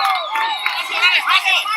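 Shouting, cheering crowd of people in Venezuela, a mob of voices cursing and cheering together, close and loud, with dense overlapping yells rising and falling over about two seconds.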